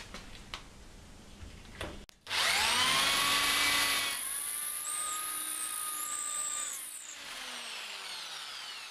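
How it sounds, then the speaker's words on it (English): A power drill whines up sharply and bores steadily through several clamped wood pieces for several seconds, its pitch shifting as it cuts, after a few faint clicks. "Now with all the pieces clamped in the vise, I'll drill the hole through all of them."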